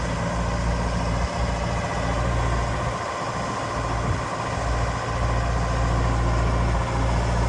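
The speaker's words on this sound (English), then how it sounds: "Tilting the machine." A 2006 Genie GTH844 telehandler's diesel engine runs steadily nearby while the machine tilts, giving a continuous low rumble with slight load changes, without any talk.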